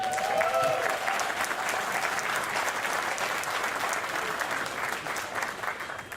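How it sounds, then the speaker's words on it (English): A crowd at a cold outdoor morning ceremony gives sustained applause, an even wash of clapping from many hands that holds steady and tapers slightly at the end, with a brief voice over the start. "I appreciate the applause"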